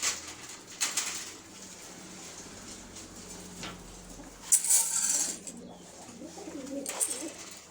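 Pigeons coo near their loft, low murmuring calls close by, broken by a few sharp clicks, wing flutters and brief knocking sounds.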